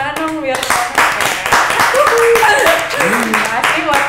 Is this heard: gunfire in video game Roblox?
no